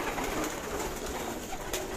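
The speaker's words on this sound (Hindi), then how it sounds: "हर किस्म का कबूतर माशाल्लाह इधर पड़ा हुआ है।" Pigeons of many kinds cooing together on a Karachi rooftop loft kept for high-flying birds, a dense, continuous murmur of calls close by with no talk over it.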